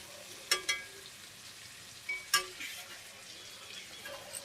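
Spiced masala with crushed chilli frying in oil for sarson ka saag, stirred with a spoon that clinks against the pan in a few sharp scrapes over a soft, steady sizzle.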